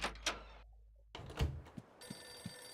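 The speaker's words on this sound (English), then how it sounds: "there goes the phone ringing" A telephone rings in the video game Eternal Darkness: Sanity's Requiem: a bell-like ringing burst comes in after a moment of near silence, over dim ambient game noise, with a few soft knocks and thuds around it.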